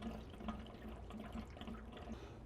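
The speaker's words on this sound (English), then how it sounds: "you can just open them, draining the heater" Water draining from a Rinnai RUR199 tankless water heater through hoses during annual cleaning, a steady low splashing gurgle with small rhythmic bubbles, faint and continuous with no talking.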